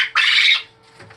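Falb Fee quail in a crowded pen give a single loud, shrill call lasting about half a second, followed by softer chirps from the flock nearby.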